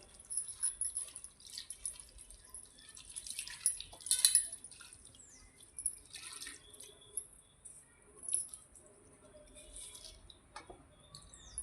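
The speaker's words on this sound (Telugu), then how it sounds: "ఒక చెంబడి నీళ్ళు పోసి కడుక్కోవాలి మంచిగా కాయలు" Faint splashing and dripping water with soft knocks as spiny gourds are rinsed and rubbed in a vessel of water, quiet and close with irregular bursts.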